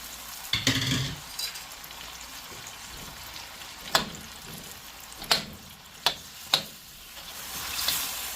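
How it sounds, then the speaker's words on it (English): Vegan shrimp and cilantro stems sizzling in a frying pan while being stirred, with a steady frying hiss broken by several sharp utensil clinks and scrapes against the pan. "Give this a stir. So I'm gonna add my vegan shrimp."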